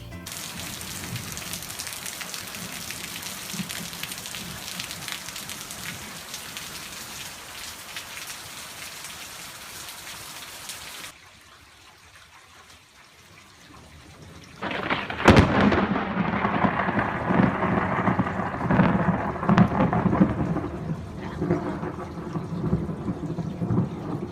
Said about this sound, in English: we've had rain, and I mean we've had torrential rain